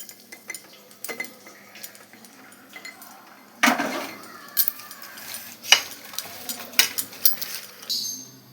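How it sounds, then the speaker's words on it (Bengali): Raw prawns being mixed with salt and turmeric in a metal bowl, with sporadic clinks, taps and scraping of utensil against the bowl, some louder knocks, in an otherwise quiet kitchen. "এবার আমি চিংড়ি মাছগুলোকে নুন হলুদ মাখিয়ে নেব।"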